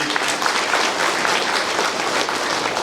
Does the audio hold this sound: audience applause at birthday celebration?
yes